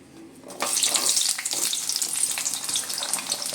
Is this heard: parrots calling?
no